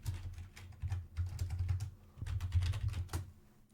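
Someone types steadily on a computer keyboard in two short bursts of rapid, close key clicks separated by a brief pause.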